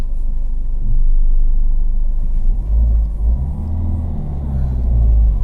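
A Ford Fiesta 1.5 TDCi diesel with a smart clutch system rumbles low and steady from inside the car, swelling as it pulls away, with a heavy deep drone throughout.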